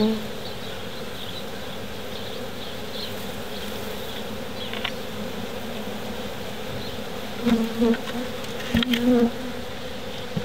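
Bees from a large, long-established wild beehive nest buzz in a steady, close drone, with a few louder passes of individual bees near the end.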